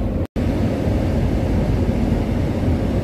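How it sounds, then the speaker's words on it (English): Paint booth blowers run with a steady, loud broadband roar during car spray painting, continuous apart from a brief cut near the start, with no talking. "Sorry about the noise, the blowers are on."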